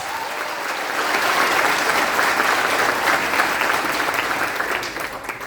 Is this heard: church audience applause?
yes